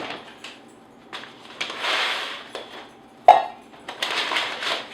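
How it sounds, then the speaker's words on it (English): Dry rice scooped out of a storage container in several separate passes, each a soft grainy rustle and pour, with a few hollow knocks and one sharp clack of the scoop against the container, close and fairly quiet. "Okay, we'll move this rice over here. We'll scoop it out the same way."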